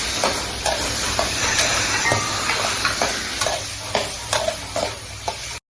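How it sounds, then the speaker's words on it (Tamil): Cooked chicken pieces tipped into a hot frying pan for village-style chicken rasam, sizzling steadily with repeated scraping stirs and clinks of a spoon throughout, close and fairly loud, ending abruptly. "வேக வச்சு எடுத்து வச்சுருந்த கறியை வந்து இப்போ அதில் சேர்க்க போவோம்"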